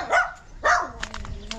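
A dog barks twice in sharp, close bursts, followed by softer yips, clear and loud with no talk over it.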